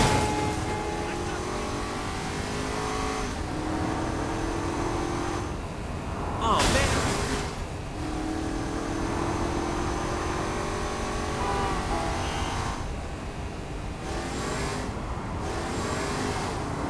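Car engine in the video game Saints Row IV, a steady driving drone with revving swells and a brief loud burst midway, under a voice talking.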